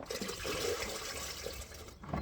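Excess water is drained down a drain while making coffee logs, a close, continuous gurgling rush of water from start to finish.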